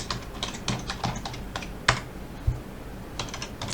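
Keystrokes on a computer keyboard while an ssh command is typed at a command prompt, a quick irregular run of close clicks with a short pause and a couple of firmer key presses, no talking.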